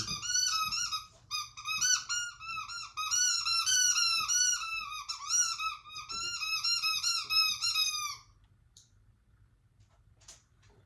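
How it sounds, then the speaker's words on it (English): A loud squeaky squirrel-shaped dog toy is squeezed repeatedly in quick bursts of high, shrill squeaks for about eight seconds, then stops, leaving only faint background noise. "There's one squeaky squirrel toy. Golly, that squeaker is loud."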